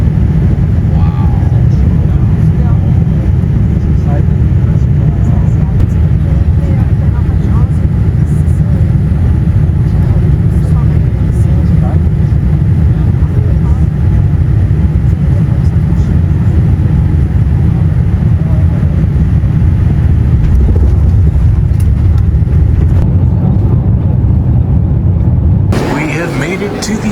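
An airliner's loud, steady cabin rumble and roar as the plane lands at Zurich airport, holding evenly for the whole span before cutting off abruptly near the end.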